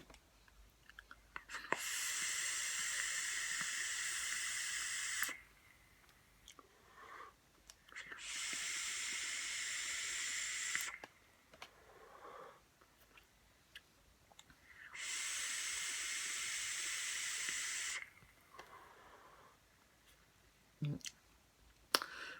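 Three long, hissing airflow draws on an e-cigarette with its airflow half open, each lasting a few seconds, separated by quiet pauses with soft clicks and breaths.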